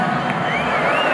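Loud live crowd at a concert, a dense steady wash of applause and cheering with a faint whistle rising through it, close and continuous for the whole moment.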